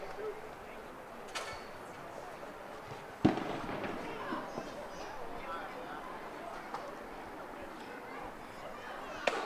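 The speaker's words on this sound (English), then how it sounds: "Someone letting off fireworks off in the distance." Fireworks pop faintly in the distance during a collegiate baseball game, a few scattered sharp cracks over steady outdoor crowd ambience and talk.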